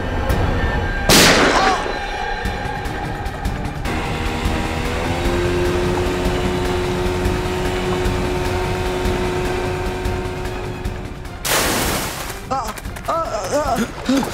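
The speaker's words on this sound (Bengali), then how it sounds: "গুলি করছে, গুলি" Two sharp, loud gunshots ring out in a tense Bengali TV crime drama chase, one near the start and one near the end, separated by a steady low mechanical hum.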